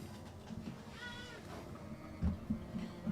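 A cat gives one short, quiet meow near the start, then soft shuffling and light thumps follow in a hushed room.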